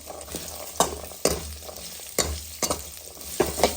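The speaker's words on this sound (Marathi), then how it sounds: "तर आपण हे बटाट्याच्या बारीक केलेल्या फोडी टाकूया त्यानंतर वटाणे टाकून ते फ्राय करून घेऊ तेलामध्ये" Diced potatoes and green peas fry in hot oil for an aloo mutter curry, with a steady sizzle broken by several sharp scraping stirs of a spatula in the pan, close and alone.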